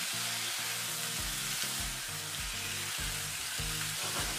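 Meat sizzling loudly in a hot pan as it is stirred, a dense continuous frying hiss with intermittent low scraping thuds from the stirring, close up and with no voices.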